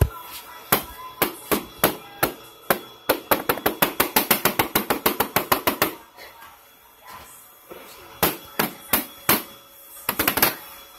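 A finger taps on a bug tank in quick rapid bursts of sharp, close knocks, some runs fast and evenly spaced, others sparse, with short pauses between the clusters.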